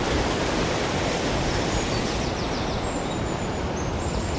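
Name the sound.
waterfall driving a water mill, Neelam Valley, Kashmir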